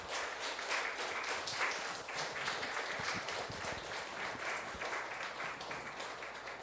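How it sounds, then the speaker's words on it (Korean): An audience at a holy blessing ceremony in a Taiwan sanctuary applauds, steady dense clapping from many hands at moderate volume, sustained throughout without a break. "Let's give a big round of applause to true parents for the holy blessing that they have bestowed upon us."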